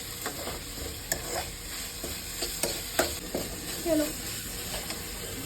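Crushed tomatoes frying in a pan for a home-style vegetable dish, a soft continuous sizzle with irregular stirring scrapes and light clinks, close but moderate in level, without speech.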